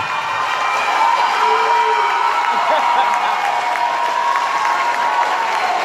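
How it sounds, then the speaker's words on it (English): An audience at a graduation ceremony applauds the graduates' families, with dense, sustained clapping and scattered cheers and whoops filling a large hall. "So raise up and clap and give your family a hand."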